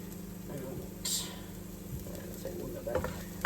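Garlic and onion sizzle quietly in a pan over lowered heat, with soft stirring scrapes and a brief louder hiss partway through.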